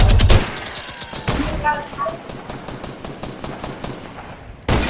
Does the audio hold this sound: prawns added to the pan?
no